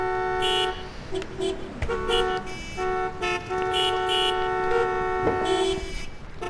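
Car horns honking angrily at a stalled motorbike on a busy road, an audio drama effect; several loud sustained blasts in uneven bursts, overlapping one another close by, with traffic noise between them.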